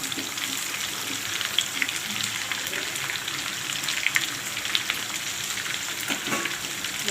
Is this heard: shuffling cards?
no